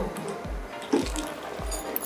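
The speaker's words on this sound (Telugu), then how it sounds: "తర్వాత ఇందులోకి ఒక పెద్ద గ్లాస్ తోటి నీళ్లు వేసేసి" Water from a large glass is poured into a pot of gongura mutton. It gives a soft, close splashing and sloshing pour that lasts about two seconds, with no talk.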